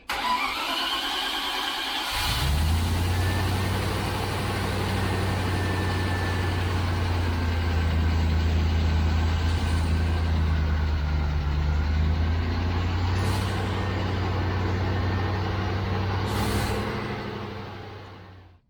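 A Range Rover engine with an electrical fault cranks briefly, catches and settles into a steady, rumbling idle that runs loud and unbroken close by before cutting off near the end.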